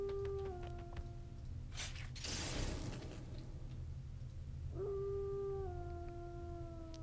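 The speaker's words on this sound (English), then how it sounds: "I still think it's weird that these things howl like wolves." Creatures in the City of Heroes video game let out long wolf-like howls, one at the start and another later, each a sustained falling tone. A brief noisy burst sits between them, with no talking.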